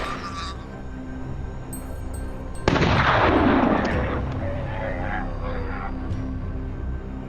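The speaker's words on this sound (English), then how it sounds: "A single, precise shot rings out." A single rifle shot fired during a wild boar hunt, one sharp loud crack partway through that trails off into a lingering outdoor echo over a steady background.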